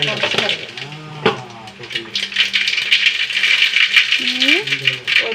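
Mustard seeds hit hot oil in a pan and set off a dense, close rattling crackle of popping and sputtering that keeps going, with a person talking over it.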